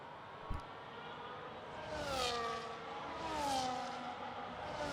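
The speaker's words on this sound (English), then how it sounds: "He's supplying the race car noises for my Rover." A race car engine in the F1 25 video game revs up and down in two rising swells, fairly close, after a brief knock at the start.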